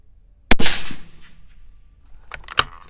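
A single sharp, loud .223 precision rifle shot loaded with 77-grain TMK bullets cracks outdoors and trails off in a brief echoing decay, followed by a couple of lighter metallic clicks.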